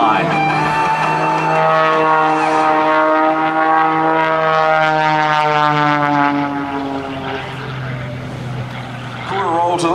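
Extra 300 aerobatic airplane at an airshow, its propeller engine droning loud and steady with rising and falling pitch as it maneuvers overhead, a continuous roar across the whole stretch.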